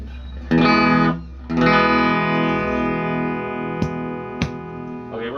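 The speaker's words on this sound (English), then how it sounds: "right now that's the Twin Reverb" An electric guitar plays through a Fender Twin Reverb amplifier. Two strummed chords ring out close and full, followed by sustained notes and a couple of sharp picked accents.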